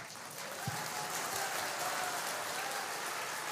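Scattered clapping from a crowd at a religious darbar gathering, a steady broadband patter sustained throughout with no voices over it.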